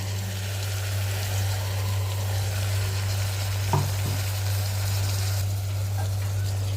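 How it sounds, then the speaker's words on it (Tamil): A steady, even sizzle of mint and green chili paste being stirred into frying masala with potatoes for mint pulao, continuous and close over a low hum, with only a light scrape partway through. "புதினா விழுது வந்து நல்லா மிக்ஸ் ஆகிற மாதிரி பரட்டி விட்டுக்கோங்க"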